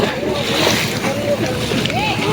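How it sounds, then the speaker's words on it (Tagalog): Strong waves slosh and splash against a fishing boat (a basnig lift-net boat) out at sea, a continuous rough wash of water and wind with people talking close by. "Lakas ng alon."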